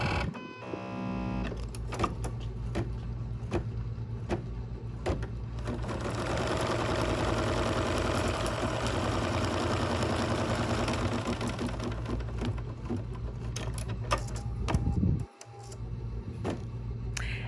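An embroidery machine stitching brown thread, its rapid mechanical chatter running steadily for most of the stretch before a sudden stop near the end, followed by a low hum.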